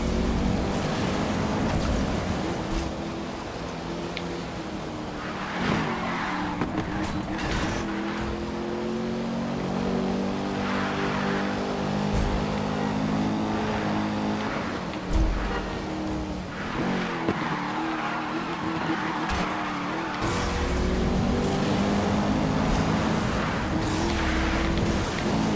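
A car drifting in the racing game Need for Speed Rivals: a continuous roaring engine with long stretches of tire squeal and skidding, loud and close throughout.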